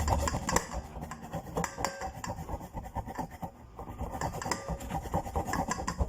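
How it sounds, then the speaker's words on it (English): Fresh ginger with its skin still on is scraped against a grater in quick, steady rough strokes, close and continuous for several seconds without any speech. "So I'm going to grate everything"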